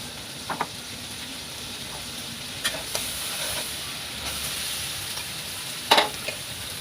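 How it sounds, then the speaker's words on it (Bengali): A spice paste of chilli powder, coriander powder and ginger paste with a little water is stirred and fried in a pan for a raw jackfruit curry, a low constant sizzle broken by a few sharp spoon scrapes and clinks. "নাড়াচাড়া করে মশলাটা কষিয়ে নিচ্ছি।"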